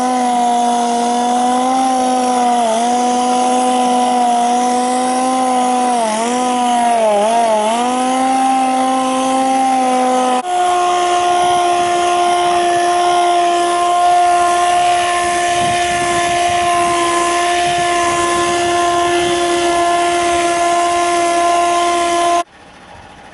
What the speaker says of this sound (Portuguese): usasse a lixa 400 para dar um acabamento perfeito